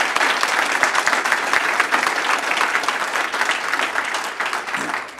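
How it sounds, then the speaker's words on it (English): A business community audience applauds local sponsoring businesses with loud, dense, sustained clapping that fills the room and tapers slightly at the very end. "If we could please give them a round of applause."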